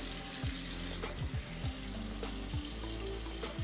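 Water runs from a kitchen tap into a pot of potatoes. The stream is steady and close, with small splashes and gurgles.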